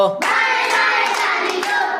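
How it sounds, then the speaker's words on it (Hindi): Crowd clapping toward the left in a children's clapping song: a thick, even wash of hand claps with regular stronger accents, close by and steady from start to finish. "बाएं बाएं ताली दो"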